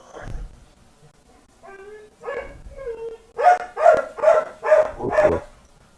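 A dog barks, starting with a few whimpering yips and then breaking into five loud, close barks in a steady rhythm.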